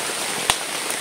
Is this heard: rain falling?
yes